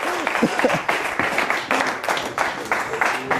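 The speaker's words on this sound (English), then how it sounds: "All right, big round of applause for you." An audience applauds after a close-up magic trick, steady moderate clapping with a voice speaking over it.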